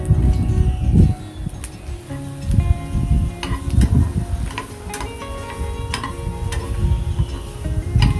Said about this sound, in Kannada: ಗ್ಯಾಸ್ನ ಮೀಡಿಯಮ್ ಫ್ಲೇಮಲ್ಲಿಟ್ಟು ಅಥವಾ ಸಿಮ್ಮಲ್ಲಿಟ್ಟು ಫ್ರೈ ಮಾಡಬೇಕು